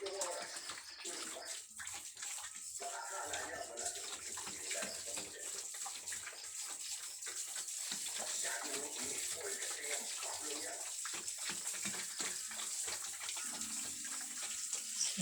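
Tap water runs and splashes steadily over a sow pig being bathed on a small farm, a continuous close gush lasting throughout with low-pressure flow and little else audible.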